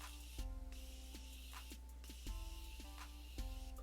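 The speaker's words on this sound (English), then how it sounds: "Setting the entire face with the Morphe Continuous Setting Spray." Morphe Continuous Setting Spray mists onto a face in bursts of fine hiss, a few evenly spaced sprays heard up close over a steady electrical hum.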